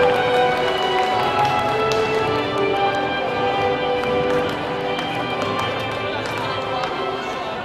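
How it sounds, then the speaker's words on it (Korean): A large audience at the 2017 MAXIM K-model awards ceremony claps and cheers, a dense, steady wash of applause filling the hall with no break, holding loud throughout before easing slightly toward the end. "네, 여러분 박수로 환영해 주시기 바랍니다."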